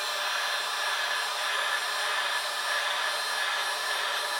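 Heat gun blowing hot air while warming an iPad 3rd or 4th generation screen digitizer, a steady loud hissing whoosh of airflow with a faint motor hum, constant and unbroken.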